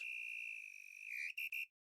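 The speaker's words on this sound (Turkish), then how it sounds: "Düdükle birlikte maç bitiyor." A referee's whistle ends a match in the video game KafaTopu 2: one long shrill tone, then two short sharp blasts, clear and alone.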